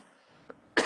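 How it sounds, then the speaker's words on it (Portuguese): A single short cough bursts out at the end, loud and close, after quiet room tone with a faint throat sound, during a live online talk. "Respondi que minha tosse bateu."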